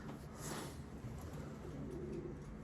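Racing pigeons in a loft coo softly in low, throaty, overlapping calls against a steady hiss of background noise, a little distant and without talking.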